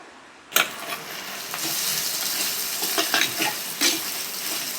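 Chopped onion sizzles in hot oil in a pan for mutton kulambu curry, starting with a sudden burst then a steady frying hiss with intermittent scraping stirs.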